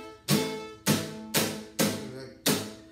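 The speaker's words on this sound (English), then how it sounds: "when you start bar chords, let's be honest, they're gonna sound like this." Five strummed guitar bar chords from a beginner, each a sharp attack decaying into buzzy, muted ringing, spaced roughly half a second apart, close and clear with no talking.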